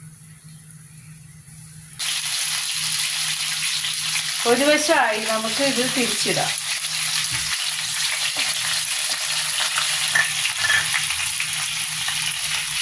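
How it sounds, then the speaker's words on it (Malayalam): Chicken pieces for chilli chicken fry in hot groundnut oil, a loud, steady sizzle that starts abruptly after two seconds and continues throughout, with a voice speaking briefly over it midway. "എണ്ണ ചൂടായി, ഇനി ചിക്കൻ ഇടാം."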